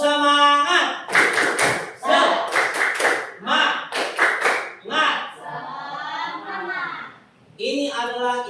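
A classroom of children performs a rhythmic spirit clap, tepuk semangat, in several quick bursts of sharp claps, then a voice carries a sustained sung or chanted note before the clapping returns.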